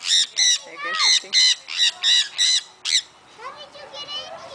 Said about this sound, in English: double yellow-headed Amazon parrot